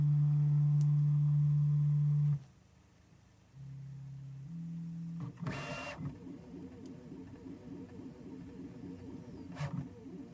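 Desktop 3D printer printing a small threaded part, starting with a steady motor hum, then brief tones and stepper whines that change pitch in rhythmic sweeps as the nozzle moves, close and moderately loud.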